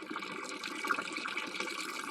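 Spring water flows steadily at Novlu spring in Malıbəyli, a close, continuous splashing gurgle with a bright hiss, alone without speech.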